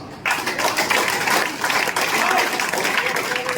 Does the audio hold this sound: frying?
no